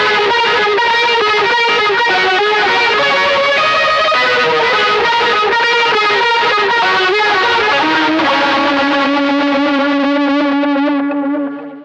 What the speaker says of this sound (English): once you turn on some distortion and play lead lines instead,